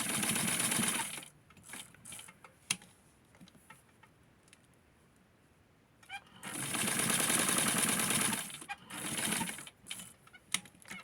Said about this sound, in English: sew that part here so that we can have a nice round little curve